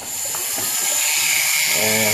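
A small drill bit whirs into a DIY nameplate charm, a continuous close high-pitched whine that holds steady throughout, with a low voice faintly underneath.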